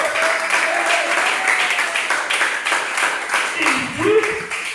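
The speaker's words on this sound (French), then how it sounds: "Est-ce qu'on peut applaudir pour la gloire du Seigneur?" Applause from a church congregation during a worship gathering, a steady wash of many hands clapping throughout, with voices and a brief sung or spoken tone rising near the end.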